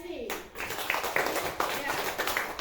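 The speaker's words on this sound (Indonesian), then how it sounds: "Kita berikan tepuk tangan untuk kelompok 2 yang sudah selesai diskusi." Schoolchildren in a classroom clap for a group that has finished its discussion, giving quick, bright, fairly rhythmic clapping mixed with the children's voices.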